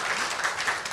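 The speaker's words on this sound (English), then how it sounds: "Round of applause for our invitees." Short burst of audience applause at a public forum, greeting invited police chiefs, even clapping lasting about a second.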